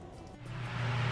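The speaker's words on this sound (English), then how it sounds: "I've got my air system running here to try and air out the building here" Ventilation air system blowing steadily inside a paint building where Awlgrip primer and paint are being sprayed, a low droning hum that builds slightly louder toward the end, with no voices.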